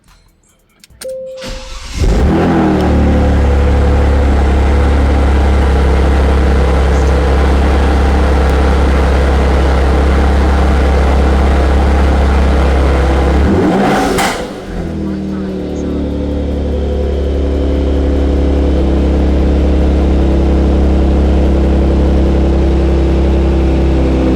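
Car engine cranking and catching after a transmission control unit tune, then idling with a steady low hum, a brief dip and re-rev partway through, loud and close with no talk over it.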